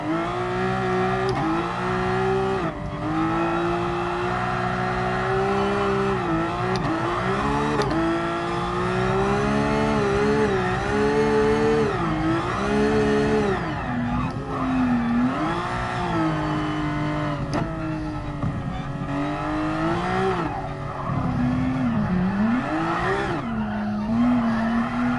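A car drifting around the Red Bull Ring in Gran Turismo Sport, the engine holding a loud, continuous wavering drone with pitch swells as revs rise and fall and tyres squeal through long slides.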